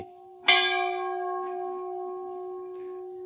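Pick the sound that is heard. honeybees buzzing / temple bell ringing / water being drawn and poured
temple bell ringing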